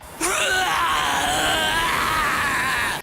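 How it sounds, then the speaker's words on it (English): An anime character from Beyblade Metal Masters lets out a loud, strained scream that holds steady for nearly three seconds, raw and piercing, with no other voices around it. "Never heard of that crash out ass yell in my life until now."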